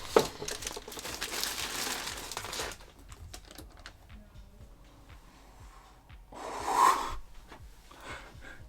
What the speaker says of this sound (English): So come in cellophane, like protective plastic bags.